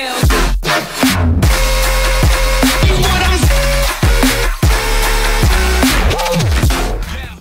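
A dense electronic track with a heavy Serum synth bass, punchy kicks and pitch-swept drops pounding loud and continuous throughout.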